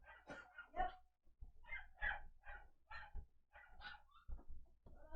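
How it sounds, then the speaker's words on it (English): Several dogs barking in short, harsh bursts, an irregular run of loud barks with a few yips, close and fairly clear with no talk over them. "The dogs are angry."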